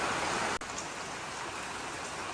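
Steady rain during sunshine around midday, a continuous even hiss of falling drops with a single brief tick partway through, no voices.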